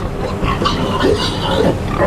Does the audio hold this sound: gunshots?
no